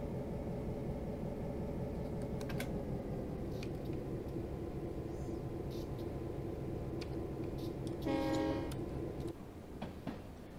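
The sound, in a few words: EMD GP9 locomotive rolling into station, Train Simulator 2019 video game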